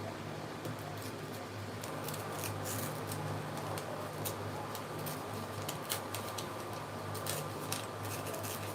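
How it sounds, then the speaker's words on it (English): Scissors snip through paper to cut a circle for lining the base of a cake pan, a steady run of short, close crisp cuts over a constant low hum, with no talk. "So what I'm trying to do is to cut like a circle."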